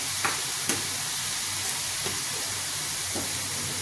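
Homemade potato sev frying in a pan of oil, a steady close hiss of bubbling oil with a few faint clinks of a utensil against the pan.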